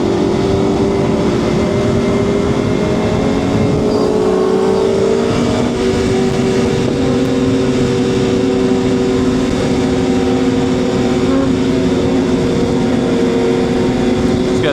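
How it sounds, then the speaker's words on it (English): A 2025 BMW S1000RR motorcycle engine cruising in third gear, a constant loud close drone with steady tonal hum and wind rush throughout, no speech. "It's so refreshing being able to just ride around in third gear, like I said. Not having to shift nearly as much."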